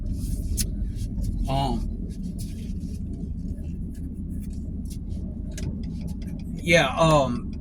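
A car drives steadily along a road, its low engine and tyre rumble continuous throughout, with a brief passing whoosh near the start and another near the end.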